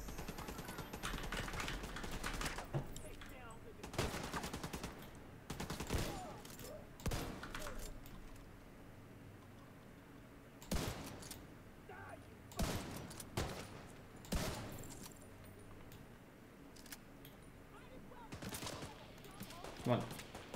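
Gunfire in The Division 2 comes as repeated bursts of automatic and single shots, sharp and fairly loud, scattered across the stretch with quieter gaps between them.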